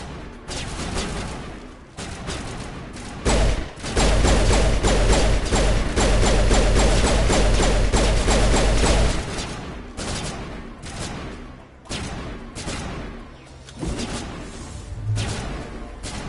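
Sustained gunfire from the video game Mass Effect: dense rapid bursts and booming impacts, loud and close, with a heavy stretch of continuous fire in the middle and choppier shots trailing off toward the end.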